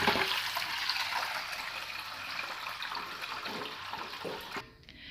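Water poured into a cooking pot used to melt jaggery over a fire for sweet rice, a steady rushing splash that keeps up for several seconds before stopping abruptly.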